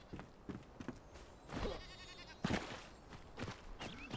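Sheep in the video game Enshrouded bleat in a few short wavering calls, moderately close, over a quiet background with soft scattered clicks and no talking.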